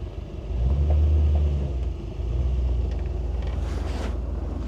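A 1955 Ford Crown Victoria Skyliner with a muffled, fairly quiet engine idles in reverse, a steady low rumble that swells briefly, dips, then holds on at an even level with no voices.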